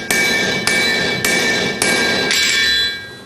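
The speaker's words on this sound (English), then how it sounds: "So place the shoe across the anvil and you're going to hit it on top here." A farrier strikes a horseshoe laid across an anvil to straighten its curve, five loud ringing metallic hits at roughly even half-second intervals, close up with a bright sustained ring between blows.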